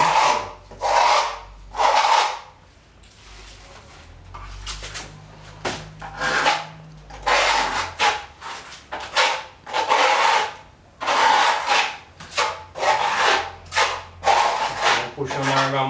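A trowel scrapes wall putty across a wall to remove the excess, producing repeated rasping strokes in an uneven rhythm, close and fairly loud, with occasional faint background noise.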